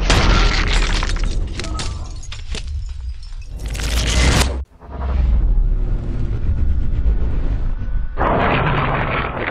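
A bullet strikes a pane of super thin, normal plate glass, giving loud broadband cracks and shattering bursts in repeated waves, with a sharp dropout near the middle before more sustained crackling noise continues to the end.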